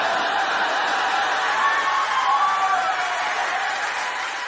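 A stand-up comedy audience claps steadily for several seconds, a dense wash of applause with scattered chuckles, loud and sustained before slowly easing.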